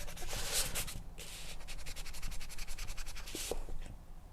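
A sponge rubs colored pencil on paper in a continuous soft scratchy sound made of repeated quick strokes, close and fairly quiet, with no talking.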